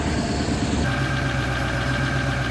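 An old truck engine idles after a cold start in winter. The exhaust smells of coolant. A close, steady, rumbling idle shifts pitch slightly early on, then settles into an even drone.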